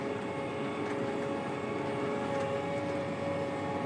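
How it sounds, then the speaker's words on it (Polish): John Deere Hillmaster combine harvester engine running steadily in the field, a loud continuous droning hum with steady tones, no talk. "Falują obroty silnika?"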